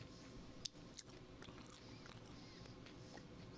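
Someone bites and chews Blaze pizza close up and quietly, with one crisp bite early on and then soft, wet chewing with no talking.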